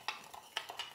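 Marinade ingredients with salt for shashlik are stirred together in a dish, giving a few soft, close clinks and scrapes spaced across a quiet moment.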